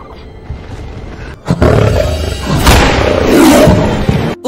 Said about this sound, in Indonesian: Tak lama kemudian harimau itu muncul